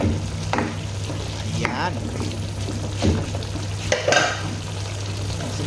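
Pork adobo with vinegar and pepper flakes gets stirred in a hot pan, with sizzling, scraping spoon strokes and liquid sloshing under a steady frying hiss while someone speaks briefly.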